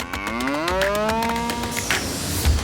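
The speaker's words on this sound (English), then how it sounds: "Angus cow, there it is." An Angus cow on a ranch gives one long, close, resonant moo that rises and then falls away, with faint outdoor noise and a soft thump near the end.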